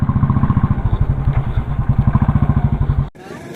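A motorcycle engine labors up a steep hill in first gear, with a steady, rapid thumping beat heard up close before it cuts off abruptly near the end.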